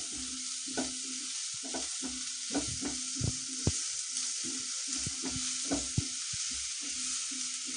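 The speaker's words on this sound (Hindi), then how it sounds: "अब मैं इसमें ये प्याज डाल दूंगी और साथ ही मैं ये हरा लहसुन भी डाल दूंगी इसके अंदर और इसे मैं भून लूंगी।" Chopped onion and green garlic frying in a pan for a mixed vegetable soup, a steady close sizzle with repeated soft scraping stirs and no talking.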